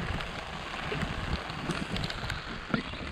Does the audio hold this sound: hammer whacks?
no